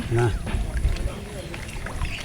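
A small rowboat moves through water with soft sloshing and low rumbling, while a person speaks briefly nearby.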